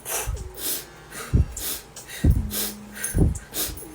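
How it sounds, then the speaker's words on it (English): Close, audible breaths drawn in through the mouth, repeated several times in a slow rhythm with brief pauses between them. "Breathing in from your mouth."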